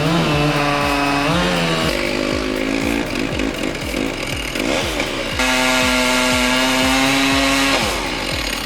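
A chainsaw cuts into a tree during a dangerous logging job high up in the canopy, its engine droning loud and near, revving up and down through the cut with no talk.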